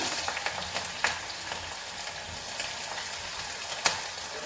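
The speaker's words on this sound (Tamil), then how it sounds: "எண்ணெய் காஞ்சோடனே இந்த மசாலா போட்டுடலாம்." Masala frying in hot oil, a continuous close sizzle with occasional sharp pops and crackles, heard alone without talk.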